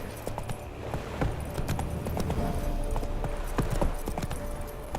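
Hooves of Roach, Geralt's horse in The Witcher 3: Wild Hunt, drum in a steady clip-clop gallop over the ground, close and even, with a low ambient bed underneath.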